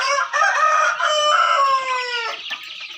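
Fighting cock roosters on a farm crow loudly and close, one long strained cock-a-doodle-doo blending with clucking from other birds nearby.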